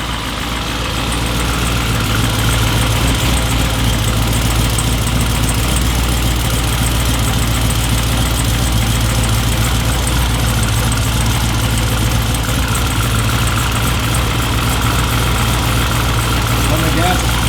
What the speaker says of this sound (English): Definitely a bit more quieter now that it's got the turbos on it